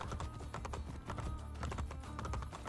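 Horse hooves clip-clop in a steady quick rhythm while riding in Assassin's Creed Brotherhood, close and continuous with no talk over them.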